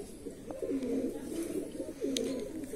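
Andhra Madrasi pigeons coo in low, rolling phrases, two clear bursts close by against a quiet background, with no talking.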